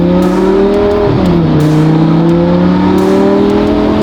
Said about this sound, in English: I really like driving this car. It sounds aggressive